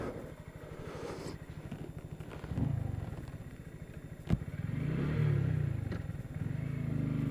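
A 2017 Honda Grom motorcycle idles with a rapid putter close by. A few blips of the throttle swell the engine noise, and a sharp click sounds midway through.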